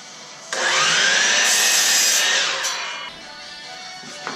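A handsaw rasps through a barn wood board in a steady burst of strokes lasting a couple of seconds, close and fairly loud, then fades to quiet room tone.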